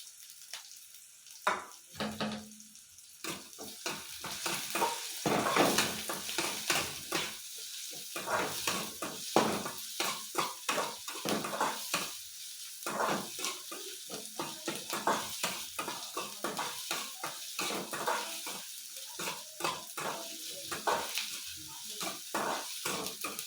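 Green chilies, onion and coriander leaves go into a pan and are stirred, giving close, irregular scraping and clattering of a utensil against metal, with light sizzling in the background.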